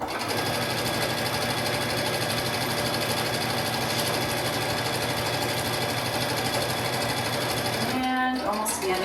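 A sewing machine stitches a seam in a steady, loud, continuous mechanical whir that runs nearly unbroken, then stops abruptly near the end.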